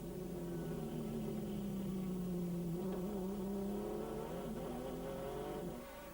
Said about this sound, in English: you're hearing that grunty little V6 Holden, those things have got plenty of torque